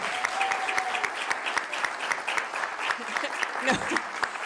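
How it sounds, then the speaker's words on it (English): A round of applause for a sports team at a Fair Lawn council meeting, steady clapping from a modest crowd with a voice and brief whoop breaking through near the end. "can we have a round of applause for our incredible team?"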